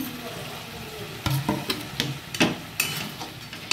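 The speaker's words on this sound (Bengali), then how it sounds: "মশলাটা কষতে কষতে দিয়ে দেবো সামান্য একটু চিনি।" Thick masala paste with tomato paste being sautéed in a pan for a katla fish kalia, with a low steady sizzle and several sharp scraping knocks from the spoon as it is stirred.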